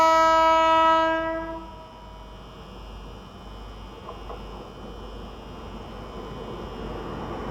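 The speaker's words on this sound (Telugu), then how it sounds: "ఏదో ట్రైన్ శబరి అనుకుంటాను" The Sabari Express sounds a long, loud horn blast at a railway crossing, then its wheels and coaches rumble past in a steady, softer clatter.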